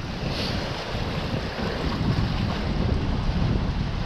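A sailboat runs downwind under sail at five knots, about 130 degrees off the wind, on a cruise off Menorca with a rough sea. Wind and rushing water make a steady, loud, close roar throughout, with no voices.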